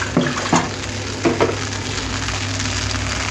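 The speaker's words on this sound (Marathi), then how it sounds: "आता हे 5 मिनिटं आपण छान परतून घेऊ." Finely chopped food is sautéed in a pan on a gas stove, with a steady sizzle throughout. A few soft scrapes of stirring rise above it, and no one speaks.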